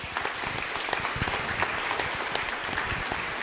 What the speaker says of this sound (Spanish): No aplaudan, che